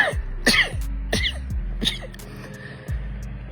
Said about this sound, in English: I can't tell if these are sneezes or coughs